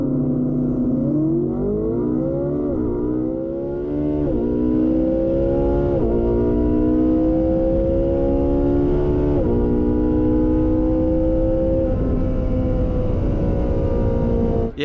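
A car engine revs hard and accelerates through the gears during a race, rising in pitch, dropping at each shift and climbing again, loud and continuous with no talking.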